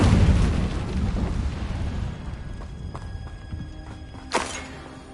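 A fiery Incendio spell cast in Hogwarts Legacy bursts loudly at the start, then its roar slowly fades into a crackling tail, with a small sharp pop near the end.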